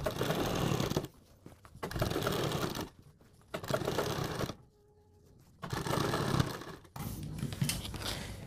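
Sewing machine runs in close bursts of steady stitching, stopping and restarting several times, while the neckline of a suit is sewn with buckram.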